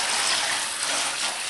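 Steady broadband water sloshing and splashing during a puppy's bath in a tub, continuous and fairly close with no talk over it.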